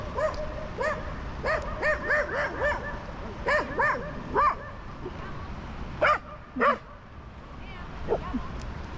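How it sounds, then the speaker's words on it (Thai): A dog barks in a series of sharp, repeated yaps and short bursts at moderate distance, with pauses between groups, heard outdoors on a walk beneath an expressway in Switzerland. "หมาเห่าคนสวย"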